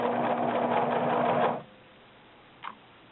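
A sewing machine whirs rapidly for about a second and a half, then stops, followed by a faint click.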